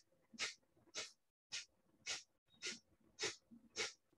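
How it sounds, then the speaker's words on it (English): Seven sharp, forceful nasal exhalations from fast yoga breathing with hands in Adi Mudra, each a short close burst of air in a steady rhythm with a brief pause midway. "make the forceful exhalation"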